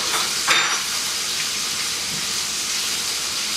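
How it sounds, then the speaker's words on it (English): Food searing in a hot pan, a continuous bright crackle and hiss with a brief scrape early on. "I'm gonna let that sizzle for a little bit longer and then flip them"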